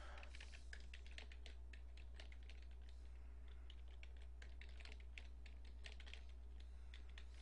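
A password is typed on a computer keyboard in a quick run of light, irregular key clicks, faint and close, over a low steady hum.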